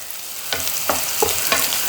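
Grated coconut and curry leaves frying in oil in a pan, a steady sizzle broken by three or four sharp scraping stirs, close and clear with no voices.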